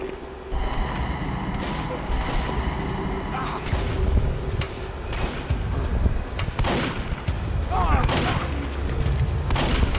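Gunfire in the Team Fortress 2 Zombie Riot custom mod, repeated shots and bursts over a dense game soundscape throughout, with shouted voice lines mixed in.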